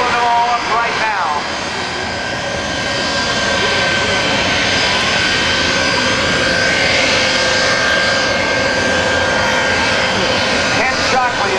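A jet-powered truck's engine roars loud and continuous at an airshow, its whine rising and falling slightly as it runs close by.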